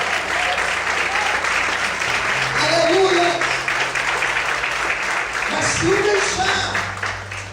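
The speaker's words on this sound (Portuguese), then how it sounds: "Quantos podem aplaudir o Senhor e glorificar o nome de Deus nessa noite?" A church congregation claps steadily in sustained applause, a dense wash of hand claps with voices calling out over it.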